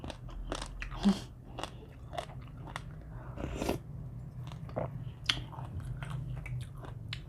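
Grilled squid tentacles dipped in seafood sauce are chewed close to the mic, a rapid series of soft crunches and wet bites at an uneven rhythm over a low background hum.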